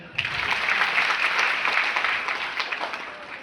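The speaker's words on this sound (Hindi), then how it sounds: "ताली बजाइए" Audience applause at a gathering, dense and loud clapping that swells quickly and carries steadily before thinning out near the end.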